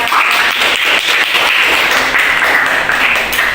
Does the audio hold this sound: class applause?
yes